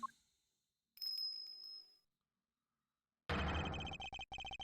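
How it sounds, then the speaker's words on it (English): A bell rings in short bursts: a thin high chime near the start, then a louder clattering run of rapid rings with brief gaps toward the end. "Is that a bell?"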